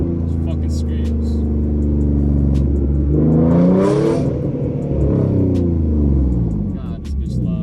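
A loudly modified V6 Mustang exhaust roars close by as the engine revs up and drops back, a steady harsh rumble that peaks midway, with a voice briefly heard over it.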